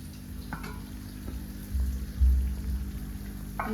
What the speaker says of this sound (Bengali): শেষে একটু কুমড়ো ভাজা করে নিচ্ছি